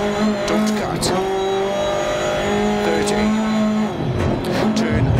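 A Skoda Fabia R5 rally car engine roars steadily in the DiRT Rally 2.0 video game on a German stage, with revs rising and dropping through gear changes over a continuous loud drone.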